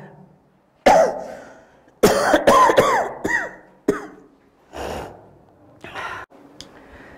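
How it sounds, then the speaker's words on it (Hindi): A man coughs hard several times in close succession, loud and near, with throaty rasping bursts, gasping breaths and throat clearing between them; no speech. "बड़ा तेज खांसी आया।"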